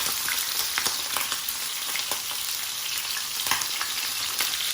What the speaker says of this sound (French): Voilà, on va colorer bien notre agneau.